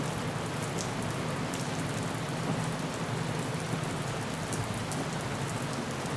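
Steady rain at night falling on a surface, a dense continuous hiss with faint patter and no pauses.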